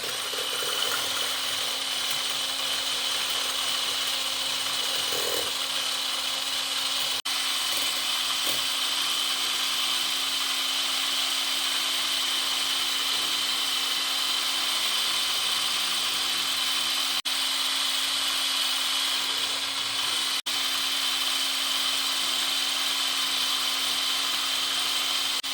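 A Silvercrest SSMS 600 E5 hand blender runs on its turbo setting, giving a steady, loud, high-pitched motor whine that holds evenly for the whole stretch with no talking.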